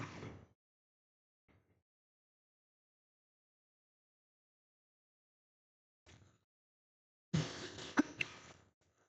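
A speaker giving a spoken exam-revision lesson coughs and clears the throat, a short burst at the start, a faint one later, and a louder cluster of coughs near the end, separated by silence.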